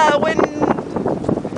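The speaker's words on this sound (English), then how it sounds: "It's windy here." Wind buffets the microphone in rough, rumbling gusts, mixing with a voice talking close by.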